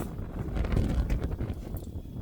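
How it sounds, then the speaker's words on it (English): Gusty wind buffets the microphone outdoors, a rough, uneven rumble lasting a couple of seconds with no speech. "Jeez, the wind's terrible right now."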